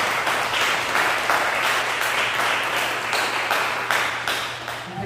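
A church congregation applauds after a prayer, steady crowd clapping filling the room at moderate loudness with a low steady hum underneath, tapering slightly near the end.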